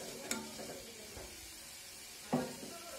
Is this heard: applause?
no